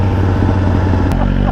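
A 750cc motorcycle engine runs loud and steady with a deep, continuous rumble, a brief rev change near the end; faint voices sit underneath.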